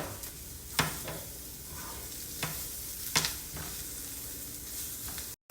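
Onions and jalapeños sizzle and hiss in a hot pan while a spoon scrapes through them a few times, close up, ending in a brief cut.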